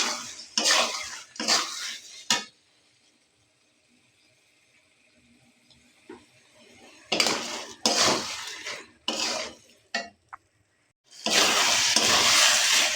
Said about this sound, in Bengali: চালটা একটু কষা দেবো এখন